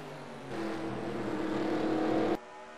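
NASCAR stock cars at Watkins Glen roaring into turn 1, a sustained engine drone swelling loudly for about two seconds before cutting off abruptly.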